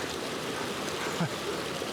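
A stream of cold water tumbling down cascades on a summer day in Australia, a steady broadband rushing that fills the clip at close range, with a faint voice briefly underneath.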